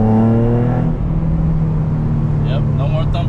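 A Nissan 350Z drift car with a Mishimoto oil cooler, setting off on a test drive after sitting idle. Its engine idles with a deep steady hum, then rises to a whirring rev near the end.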